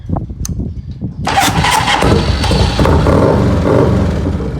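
A 1988 Harley-Davidson FXRS motorcycle engine cranks briefly with a starter whir, then catches and settles into a loud, steady idle close by.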